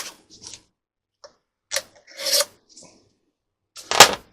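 Short scraping and rasping cuts sound as covering material is trimmed along the edge of a model aircraft fuselage, in a few irregular bursts with quiet gaps between.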